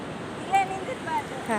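Sea waves wash onto a beach with a continuous rushing surge, while voices sound briefly over the water.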